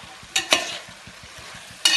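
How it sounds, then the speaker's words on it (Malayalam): Vegetables for a mixed vegetable pickle are stirred and sautéed in a heavy uruli pan, giving a steady soft sizzle broken by a few sharp scraping clatters of the spoon against the pan, with no talking. "അതുവരെ നമ്മളൊന്ന് വഴറ്റി കൊടുത്തോണ്ടിരിക്കണേ"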